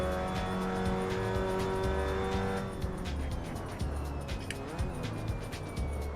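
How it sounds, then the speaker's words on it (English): Loud, close engine of an MX5 Cup race car in a VR racing game at Silverstone, with a quick throttle blip and rising then falling revs through a downshift, no voices. "I tried to throw a little throttle in there to help the downshift"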